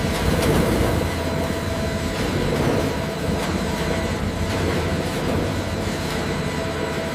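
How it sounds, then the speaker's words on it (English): Steady, loud mechanical rumble and grinding of an inclined screw conveyor in a cassava processing factory, feeding roots to a chopper, with a dense industrial hum filling the whole stretch. "white roots are fed into the inclined screw conveyor, where the large helical screw turns inside the trough"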